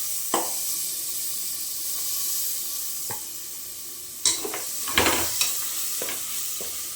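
Masala and broad beans fry for a beef curry, a steady hiss of sizzling oil punctuated by several sharp clanks and scrapes of stirring against the pan, close and moderately loud, no talking.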